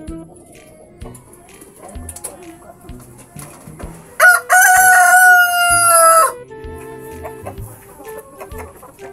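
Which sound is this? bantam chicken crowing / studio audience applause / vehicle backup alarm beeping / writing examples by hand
bantam chicken crowing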